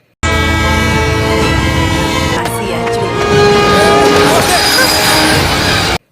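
Animated train pulling away from a station, a horn-like tonal blast and rolling rail rumble filling the scene loudly and continuously, with layered harmonic tones throughout.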